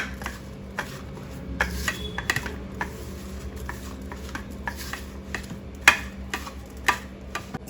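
Spiced masala stuffing for stuffed okra being mixed with a couple of spoons of oil, heard as soft scraping with scattered light clicks and taps of a spoon against a bowl, close and fairly quiet, with no talking.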